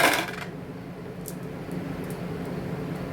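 Clear glass gems are shaken in a container, with a bright clattering burst at the start that settles into a quieter rattle and faint clicks over a steady background hiss.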